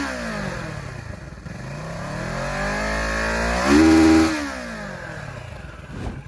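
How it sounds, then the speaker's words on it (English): Kawasaki Ninja 650 parallel-twin motorcycle exhaust revving up close, rising steadily in pitch to a loud peak then dropping back, with a final short blip at the end. "Here's a Ninja 650's exhaust sound."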